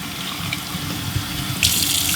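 Tap water running at its maximum setting rinses a cold air intake filter: a steady, close, full-band rush that swells louder and brighter near the end as the stream hits the filter.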